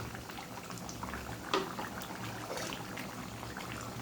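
Meat curry simmering in a pot with its lid lifted, a soft continuous bubbling with a brief clink and light stirring, close and quiet with no voices.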